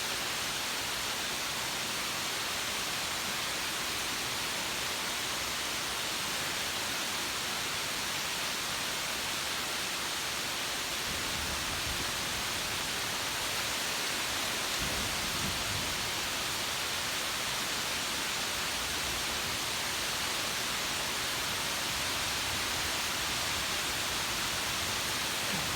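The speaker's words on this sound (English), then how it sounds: "so it is pouring out here" Heavy rain pouring outdoors at about nine at night during a thunderstorm, a thick unbroken roar of falling water, loud and constant, with no talking.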